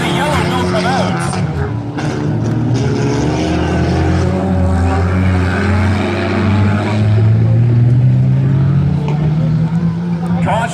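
4 cylinder class race cars at Valley Raceway, a loud continuous engine roar with rising and falling pitch as cars pass, an announcer talking over it throughout.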